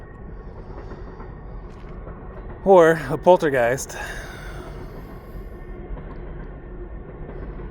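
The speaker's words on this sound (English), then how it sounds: "ignore the train on the other side of the river there. It's going to be a little loud." A train on the far side of a river in Montana makes a steady, distant rumble through the whole stretch, with a short burst of someone talking in the middle.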